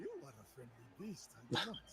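Puppies in the Assassin's Creed Shadows video game give short, high whimpering yips and soft barks in a repeated rhythm, close and fairly quiet, with talking heard alongside them.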